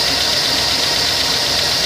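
A high-mileage 2006 Chevrolet Suburban engine with a mouse-chewed wiring harness idles roughly, a loud continuous close drone with slight uneven pulsing.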